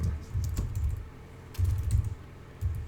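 Quick bursts of typing on a computer keyboard, soft clicking keystrokes in short runs with brief pauses between.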